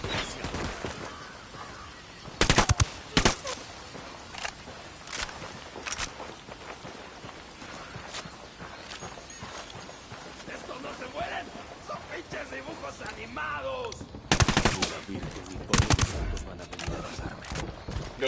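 Bursts of machine gun fire in the video game Ghost Recon Wildlands, loud rapid volleys near the start and again toward the end, with scattered shots, footsteps and voices talking between them.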